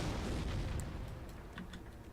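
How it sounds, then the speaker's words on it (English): Werkmont mortar shells exploding in a video game battle, a heavy continuous rumble of blasts with a few sharper cracks near the end. "the Werkmont mortar just decimates the allied mortar while they were trying to pack up"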